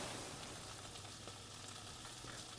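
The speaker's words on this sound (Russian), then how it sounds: "Мне надо рыбу жарить, я не хочу стейк жарить с картошкой." Fish sizzles as it fries in a pan in the Chef Life restaurant cooking video game, a faint, even crackling hiss that runs steadily throughout with no talking.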